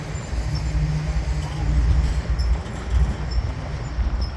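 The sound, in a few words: passing freight train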